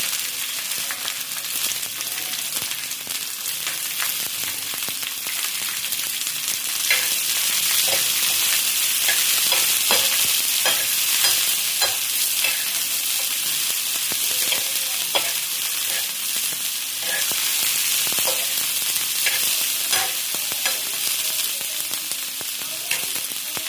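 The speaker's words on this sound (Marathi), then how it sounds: "लसूण लाल झाल्यानंतर त्यामध्ये आपले जे कांदे कट करून घेतलेले आहेत ना, ते टाकायचे." Chopped onions frying in hot oil with garlic already browned red, a loud, steady, dense sizzle running throughout with scattered crackles and occasional stirring scrapes, close up and without speech.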